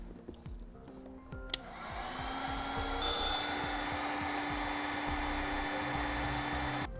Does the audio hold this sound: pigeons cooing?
no